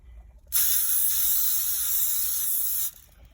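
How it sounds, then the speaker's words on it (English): Canola oil cooking spray hisses onto a hot pan in a truck kitchen, one steady loud burst lasting a little over two seconds before stopping abruptly. "I'm going to spray the pan with our canola oil"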